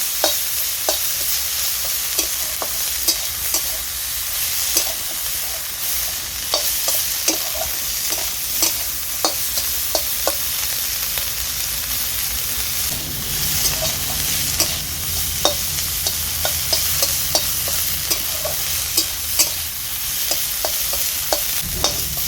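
Dheki shak fern greens fry in a pan with a constant soft sizzle, while a spatula scrapes and taps the metal at an irregular pace throughout, near and clear with no speech.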